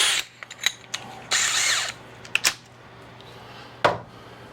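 A drill bit is fitted into a cordless drill beside a pocket hole jig, giving short ratcheting clicks of the chuck in separate bursts with quiet pauses between them.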